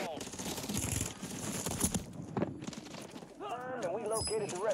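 Gunfire in the shooter game Warzone, bursts of rapid shots and impacts crackling through the mix while players talk over a busy, loud battlefield.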